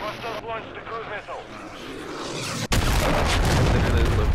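Cruise missile strike in Call of Duty MW3, a sudden loud boom cutting in after a stretch of voice chat, followed by a sustained heavy rumbling roar.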